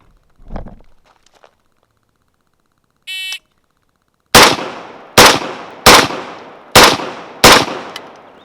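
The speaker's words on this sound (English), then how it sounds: "5 shots to the head on the buzzer" A short electronic buzzer beep, then five loud, close rifle shots from the 30-yard line in a steady, rapid rhythm, each crack sharp with a brief decay, on an outdoor range.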